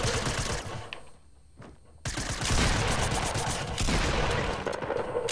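Video-game gunfire rattles in dense rapid bursts, pauses briefly, then resumes as a loud sustained stream of shots until the weapon runs out of ammo.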